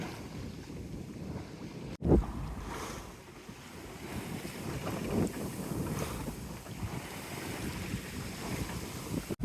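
A sailboat on a broad reach at about 6 knots off Cape Scott on Vancouver Island's west coast, with a steady rush of water along the hull and gusty wind buffeting the microphone, one sharp knock partway through.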